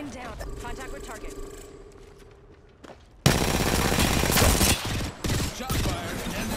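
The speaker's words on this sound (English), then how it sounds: "Shot fired, and they're hitting me." Gunfire in the Apex Legends video game erupts after a quiet stretch of footsteps and interface beeps, a loud sustained burst of rapid automatic shots with brief gaps.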